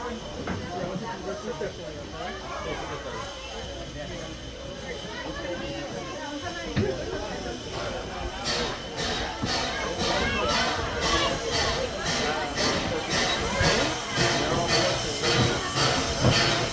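A steam locomotive rumbles past close by on the tracks, with hissing steam and rhythmic clattering chuffs building in the second half, while people talk over the noise.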